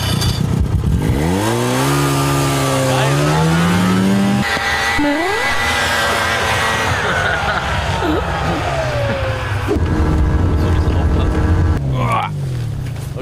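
A snowmobile engine runs loud and close, revving up and down with rising and falling whines as the machine passes and accelerates, while people talk over it.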